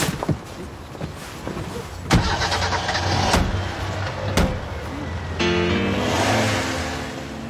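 A mother's car starts up with a door slam, idles, and then revs as it drives away, the engine sound loud and close with a high steady tone running above it.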